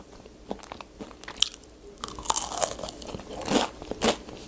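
Crisp crunching bites into Korean fried whole chicken, several sharp crackly bites followed by chewing, close to the mic.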